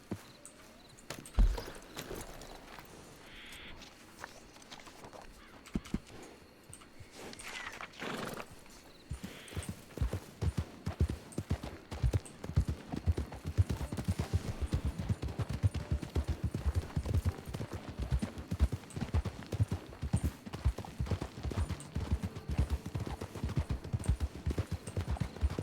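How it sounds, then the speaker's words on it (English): Several horses' hooves clatter in WildRP, a Wild West roleplay game, with a whinny early on and a steady, dense clip-clop that grows louder and faster toward the end, heard alone without talk. "I hear horses."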